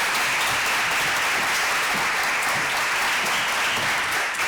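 Audience at a clinical lecture on suicide breaking into sustained, even applause that fills the room for several seconds as a speaker is welcomed.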